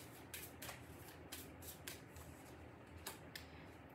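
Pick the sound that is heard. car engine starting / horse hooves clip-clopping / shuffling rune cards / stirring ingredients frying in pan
shuffling rune cards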